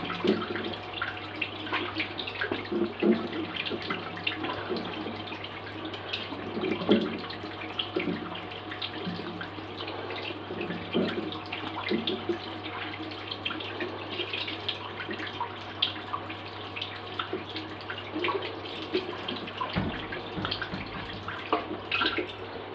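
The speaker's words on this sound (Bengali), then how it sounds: "এবার আমি নর্মাল জল দিয়ে ধুয়ে নেব।" Plain tap water splashes and runs as a face is washed, a continuous close trickle with small irregular splashes throughout and a steady low hum underneath.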